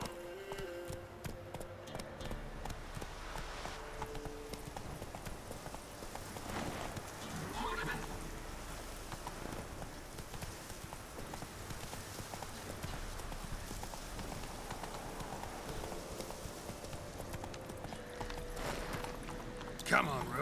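Roach, the horse in The Witcher 3 video game, trots along with steady, rhythmic hoof clip-clops and an occasional whinny, layered over continuous in-game ambience.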